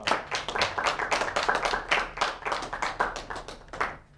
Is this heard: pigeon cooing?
no